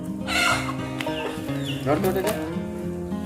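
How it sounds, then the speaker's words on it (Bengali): Chicken clucking in a rural village yard, a few clucks in short bursts mixed with people talking nearby and background voices. "ওই দেখো মা ওই যে একটা মুরগি"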